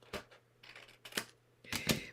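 Scissors cut paper for a custom-sized envelope in about three short, crisp bursts separated by brief pauses, close and fairly quiet, with no talk.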